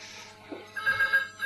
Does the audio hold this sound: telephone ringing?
yes